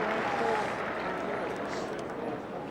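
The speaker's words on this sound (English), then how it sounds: "Real finals crowd here today." Large finals-day football crowd at a stadium in Melbourne, North Melbourne against Essendon, a broad roaring cheer and applause filling the clip, slightly swelling early then easing, with voices mixed into the din.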